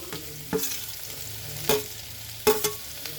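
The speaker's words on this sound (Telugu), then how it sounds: "నేను నూనె వేసి 3 పెద్ద పెద్ద బీరకాయలు పొట్టు తీసి ఇదిగో ఫ్రై చేస్తున్నానమ్మా" Peeled ridge gourd frying in oil, a low sizzle beneath a few sharp, spaced scrapes and clanks of a spoon stirring in the pan, close and quiet.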